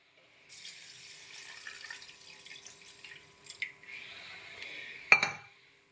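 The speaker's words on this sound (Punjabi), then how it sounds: "ਇੱਕ ਕੱਪ ਆਪਾਂ ਨੇ ਲੈ ਲਿਆ ਠੰਡੇ ਦੁੱਧ ਦਾ ਇਹਨੂੰ ਵੀ ਆਪਾਂ ਵਿੱਚ ਐਡ ਕਰ ਦਿੰਨੇ" Cold milk pours from a cup into a mixer blender jar for making coffee, a close, continuous liquid stream lasting several seconds, ending with a sharp clink of the cup against the jar.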